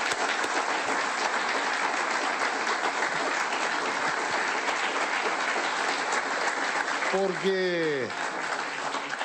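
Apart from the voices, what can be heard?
crowd applause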